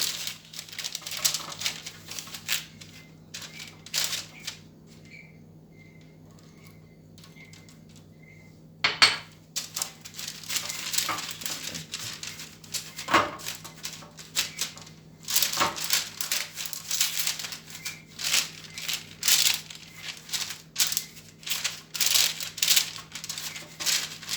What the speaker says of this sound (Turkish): şimdi ilk önce yağlı kağıdımı birazcık yağlayacağım